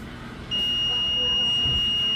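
A steady high-pitched electronic buzzer tone from a continuity tester during an LED TV repair starts half a second in and holds continuously, loud and close, over a low background hum.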